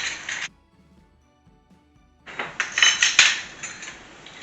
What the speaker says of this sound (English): Then I'm going to continue to mix this for another 2 to 3 minutes till it's well combined.